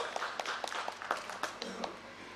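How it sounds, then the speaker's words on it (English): Audience at an education summit giving a round of applause for an introduced guest, scattered separate claps heard faintly at a distance in a large hall. "Welcome him with a big round of applause"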